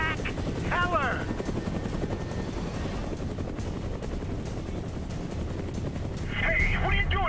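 Helicopter gunship in the Prototype 2 game, a steady loud rotor and engine roar filling the whole stretch, with brief electronic chirps near the start and end.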